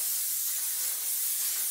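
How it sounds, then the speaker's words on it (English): A steady aerosol spray of frizz and static control hair mist hisses continuously for under two seconds, close and fairly loud, with no voices. "shape the can, spray it."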